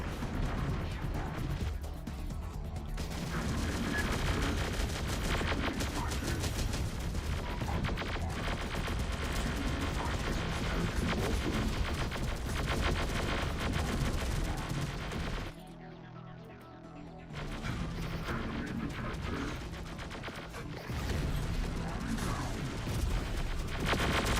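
Sustained battle gunfire from the Terminator Dark Fate Defiance game: dense, continuous volleys of shots and explosions with a brief lull near the end before firing resumes, loud throughout, with a voice talking over it.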